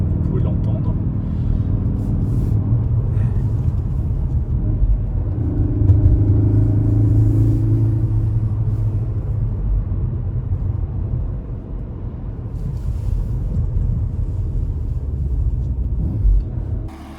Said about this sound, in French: nous sommes en mode sport, vous pouvez l'entendre